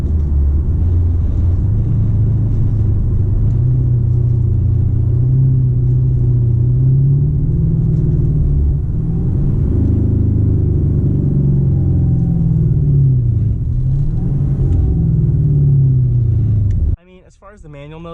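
Heard from inside the cabin, the 5.0-litre V8 of a 2013 Hyundai Genesis R-Spec drones low and loud as it accelerates, rising and falling through gear changes before cutting off sharply at the end.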